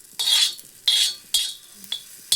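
A utensil stirs cumin frying in a pan, making four short, bright metallic scrapes and clinks spaced about half a second apart, close and clear against near silence.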